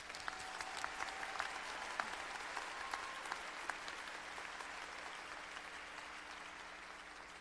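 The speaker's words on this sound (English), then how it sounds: "I'd like for everybody to join me in a huge round of applause for our grads today." An audience at a WGU Washington 2015 commencement ceremony applauds the graduates, a faint, steady wash of many hands clapping with a few sharper claps standing out, fading slightly toward the end.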